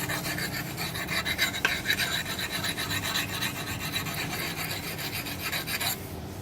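Garden tool point being sharpened with a Lansky sharpener: continuous close rasping strokes rubbing back and forth, steady and fairly loud, stopping just before the end.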